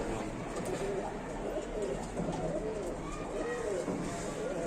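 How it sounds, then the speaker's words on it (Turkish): Native Diyarbakır pigeons coo repeatedly in their coop, soft rolling calls layered over a steady low background hum, close and moderately quiet. "Diyarbakır'ın yerli güvercinleri"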